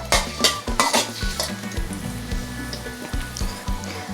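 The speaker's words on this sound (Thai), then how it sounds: "ใส่น้ำมันลงไป กระเทียม เจียวกระเทียมให้เหลืองนะคะ" Garlic fries in hot oil in a pan, a loud close sizzle that carries on throughout, with repeated scraping clinks from a utensil stirring against the metal, and no voices.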